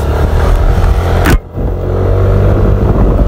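A Yamaha Aerox 155 scooter on a test ride, its engine droning loudly and close with a steady rumble that briefly drops off and then picks back up.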